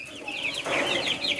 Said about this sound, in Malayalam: വളരെ മനോഹരമായ കോഴിക്കുഞ്ഞുങ്ങൾ